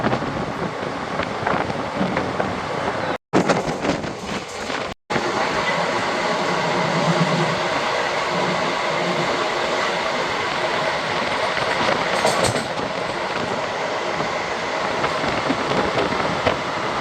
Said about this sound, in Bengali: ছুটে আসছে বন্দে ভারত এক্সপ্রেস।